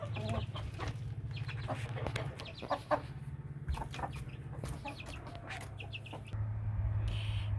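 Hens cluck continuously inside a homestead chicken house on the first day of fall, with short overlapping calls and a low steady hum underneath.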